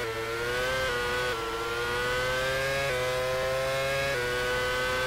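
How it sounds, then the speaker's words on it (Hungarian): A race car engine in a sim racing game at Istanbul holds a steady high drone, with clear harmonic tones stepping down briefly at each gear change, loud and continuous. "mintha nem is nyomná neki annyira a motor hangból ítélve"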